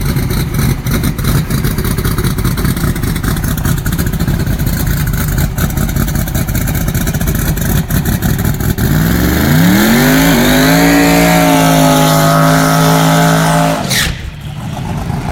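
A roughly 4,000-horsepower Proline Racing V8 drag car at Sydney Dragway lopes loud and close at a rough idle, then climbs sharply in pitch through a sustained rev before cutting off abruptly.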